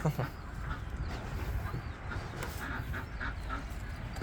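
Peafowl and Phoenix chickens call in a bird enclosure, a mix of nasal squawks and clucks, fairly faint, with voices talking over them throughout.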